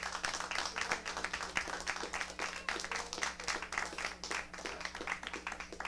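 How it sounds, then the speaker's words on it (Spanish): Applause from a church congregation, a dense continuous clatter of many hands clapping throughout, steady and fairly loud with no voices over it. "Dale un aplauso seguro."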